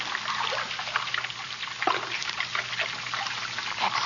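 Running water in an old-time radio drama flows and trickles in a steady, continuous rush close by, alone with no voices.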